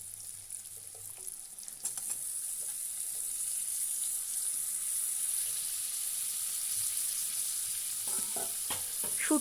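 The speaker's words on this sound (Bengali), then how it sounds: "এবার ধুয়ে রাখা শুটকি মাছটা দিয়ে দেব।" Dried loitta shutki fish fries in a pan with a steady, loud hiss, opening with a few scrapes and clatters of stirring and ending with more stirring knocks near the close.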